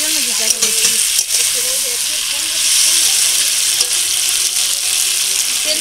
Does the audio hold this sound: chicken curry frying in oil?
yes